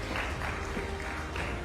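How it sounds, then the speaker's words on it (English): An audience at a business conclave applauds in a broad, even wash of clapping that holds steady throughout, heard from a distance rather than up close. "Please, big round of applause for everybody on stage."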